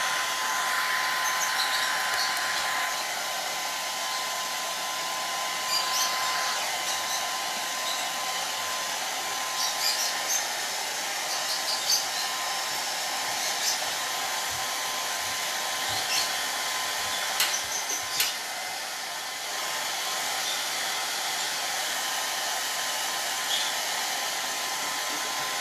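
A hair dryer runs steadily and fairly loud for the whole stretch, drying painted craft pieces for a bumble bee potted plant project, with a constant whooshing hum and small clicks and shifts.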